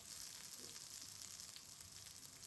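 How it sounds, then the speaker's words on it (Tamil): Potato cutlet frying on a hot dosa griddle, a soft steady sizzle held at low level for the whole stretch with no voices. "நல்லா சூடானோடனே தட்டி வச்ச கட்லெட்டை வந்து தோசைக்கல்லில் வைங்க"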